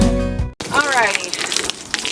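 Water pours into a Greenstalk vertical strawberry planter after a brief pause, a steady close rush and splash that keeps running to the end.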